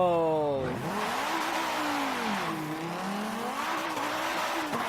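A drift car fitted with an angle kit and drift suspension is thrown into a corner, its engine wailing and tires squealing continuously up close.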